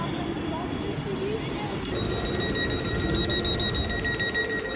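A train sits at a Swiss railway station near Zurich, bound for Interlaken, with a steady rumbling hum, high electronic beeping tones and a person talking nearby.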